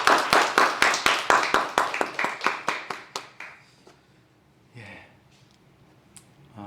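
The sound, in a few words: congregation applause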